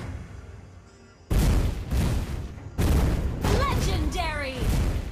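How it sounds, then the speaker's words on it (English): Loud bursts of a turret being destroyed in a multiplayer battle video game, with heavy booming impacts and crackling blasts, layered with game announcer voice lines and warbling effects. "Your team destroyed the turret."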